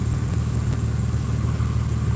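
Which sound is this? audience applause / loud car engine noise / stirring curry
loud car engine noise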